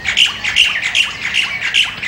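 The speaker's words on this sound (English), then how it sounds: "Mina birds were brought to Hawaii from India. They are fun to watch, but they're a noisy bunch as they chitter-chatter all day long." Myna birds in Hawaii chatter and squawk in a noisy flock, repeated sharp calls overlapping in quick bursts at close range with no voices.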